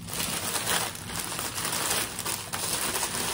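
Plastic bag from a Loungefly Prince Charming Regal Carousel bag crinkling close up, rustling in uneven bursts that rise and fall throughout.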